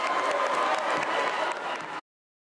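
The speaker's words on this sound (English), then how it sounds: "When they make a basket, they go crazy. They're having a great time. They're having the time of their life. They're cheering and jump up and down." Crowd at a basketball game cheering after a basket, a dense, steady roar of many voices and clapping that holds for about two seconds and then cuts off abruptly.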